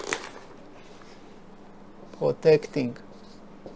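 A pen writes on paper with light, faint scratching, partly under a man's speech.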